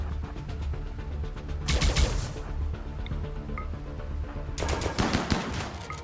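An automated defensive turret fires in the colony sim RimWorld: two rapid bursts of loud, rattling shots, each lasting about a second or more, with quieter ambient game sounds in between.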